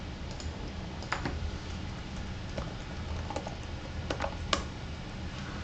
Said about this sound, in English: we'll type out everything that's in there